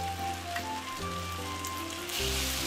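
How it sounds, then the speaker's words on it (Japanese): Soft sizzling in a hot pan of chicken thigh and asparagus that swells louder near the end as soy sauce hits the metal, over a low background hum. "醤油大さじ3分の2鍋肌に回しかけます"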